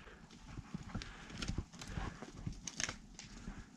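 Horses moving about in a new paddock fenced with Timeless Fence on a cold evening, giving steady hoof clip-clop with scuffs and an occasional faint whinny, close by, with no talk.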